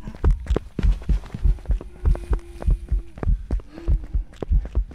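A video game heartbeat thumps in a steady, loud double-beat rhythm, close and continuous, with a faint hum underneath and no speech.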